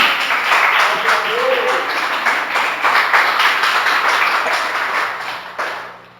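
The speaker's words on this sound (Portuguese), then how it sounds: "Você pode dar aplauso ao Senhor Jesus?" A church congregation applauds together, a broad steady wash of clapping that holds for several seconds before thinning out at the end, with voices mixed in beneath it.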